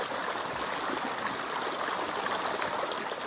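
A shallow creek in southwest Idaho flows over rocks, giving a steady, close rushing and babbling of water that stays constant throughout with no voices.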